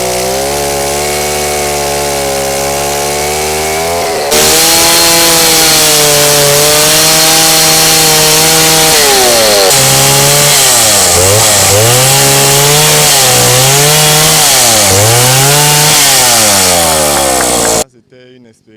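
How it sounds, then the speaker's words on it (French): A chainsaw clears large trees in a plantain field, loud and close, its engine revving up and down in a continuous whine with pitch swoops as it cuts, then cutting off abruptly at the end. "les encadreurs soumettent également ces jeunes au maniement des tronçonneuses pour dégager les gros arbres et aérer le champ"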